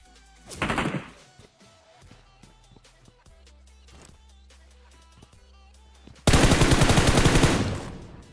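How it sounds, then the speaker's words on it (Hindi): Gunfire in Battlegrounds Mobile at a military base, a short automatic burst early on, scattered single shots and thuds, then a long loud sustained burst at the end. "तभी भाई ये वाला बंदा मेरे पे फायर करता है"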